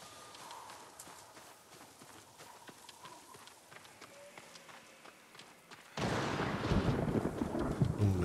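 A thunderstorm rolls in within the Ghost of Tsushima video game: quiet ambience with hoofbeats at first, then a sudden loud surge of rain and thunder noise that takes over and holds steady for the last couple of seconds.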